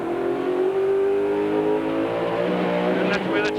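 A race car at the 1995 Bathurst 1000 downshifting for a turn, the engine note holding a strong steady drone then dropping and blipping as gears change, loud and close, with a voice talking over it.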